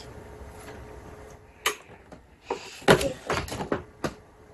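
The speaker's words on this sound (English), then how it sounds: "locking our door" A home door being locked, heard as a few sharp clicks and knocks with short rattling handling sounds, fairly close and without talk.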